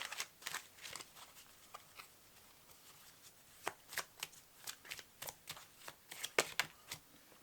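Oracle cards shuffled for a tarot-style reading: soft riffling and sharp card snaps close by, in uneven bursts, fairly quiet with no talking.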